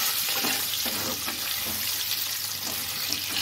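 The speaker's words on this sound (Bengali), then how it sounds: "আলুটাকেও আমি ভাজা করে নেব" Pre-boiled potatoes fry in oil in a wok, giving a steady, close, even sizzling hiss that runs the whole time with no voices.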